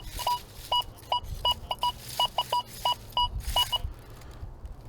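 An XP Deus 2 metal detector sounds a steady series of short, repeated electronic beeps in an uneven rhythm over soft background noise while hunting outdoors.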